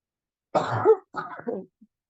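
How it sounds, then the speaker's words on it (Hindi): Someone speaking at a prayer meeting gives a couple of close, short coughs with brief throat clearing, isolated against silence. "मेरे को थोड़ा खांसी आ रहा है"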